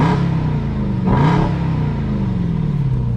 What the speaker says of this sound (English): let's hop in and give it a couple revs here